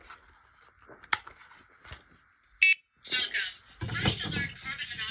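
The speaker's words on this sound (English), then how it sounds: "First alert carbon monoxide and smoke alarm." A First Alert combination carbon monoxide and smoke alarm gives one short, loud high-pitched chirp near the middle. Around it come quieter clicks and handling knocks, and a voice starts speaking toward the end.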